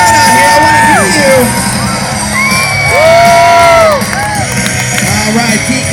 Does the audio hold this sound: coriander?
no